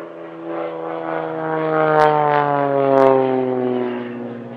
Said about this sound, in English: there's also some excellent solo aerobatic flying in their display